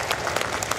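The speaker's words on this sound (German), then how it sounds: "Ein Applaus für die ersten beiden Contestanten." A live event audience applauds the contestants of a Mario Kart 8 match at gamescom 2022, a brief dense burst of clapping from a crowd.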